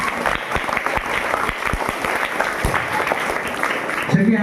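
Schoolchildren at a Teacher's Day celebration clap steadily in a sustained round of applause, with crowd noise underneath and voices rising near the end.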